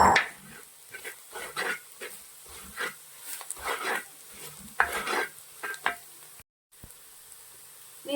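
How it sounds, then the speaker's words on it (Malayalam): Chili powder masala being sautéed in a pan, a soft sizzle broken by repeated scraping stirs of a spoon against the pan, close and fairly quiet. "ഇനി ഇത് നന്നായിട്ട് വഴറ്റിയെടുക്കണം."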